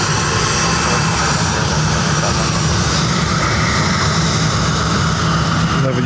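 Bombardier Global 5000 business jet at Dublin Airport, a steady loud broadband engine roar that holds constant throughout without fading, close and continuous.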